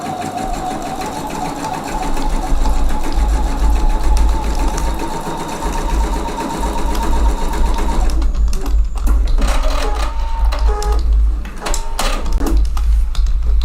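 A sewing machine runs loud and close while stitching pintucks, humming steadily for several seconds before breaking into short stop-start bursts of stitching with small clicks and knocks.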